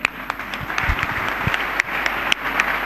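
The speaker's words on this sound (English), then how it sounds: "Can we have a huge round of applause for sir?" Steady applause from an audience at an HR technology summit, a dense wash of clapping with a few sharper claps standing out, continuous throughout.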